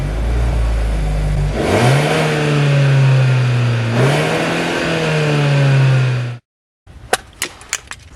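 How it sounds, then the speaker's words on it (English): Kia Sorento exhaust revving up twice, each blip rising then settling back to a steady drone, loud and close, before cutting off abruptly; a few sharp clicks follow. "now we're going to have a listen to the exhaust"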